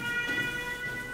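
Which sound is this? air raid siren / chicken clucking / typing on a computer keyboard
air raid siren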